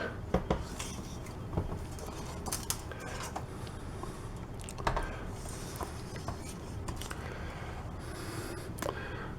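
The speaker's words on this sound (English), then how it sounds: "What I'll do first here is flip the shade over." A stained glass lamp shade is flipped over on a work surface, giving soft clinks, taps and scraping rustles of glass and metal, close and low in level with no talk.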